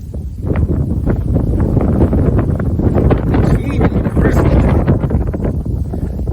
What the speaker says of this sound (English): It's windy out here